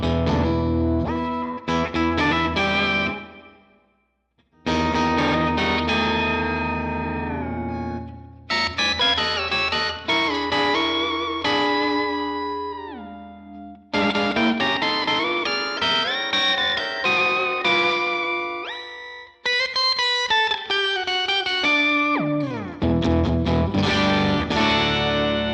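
An electric guitar runs through a Line 6 HX Stomp octave effect with distortion and modulation, playing warbling, pitch-shifted phrases with sliding octave sounds. The phrases come in bursts with short silent gaps, loud and close, with no speech.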